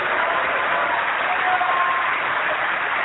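A church congregation claps steadily in a dense, continuous wash of applause that holds an even level throughout, with no distinct individual claps standing out.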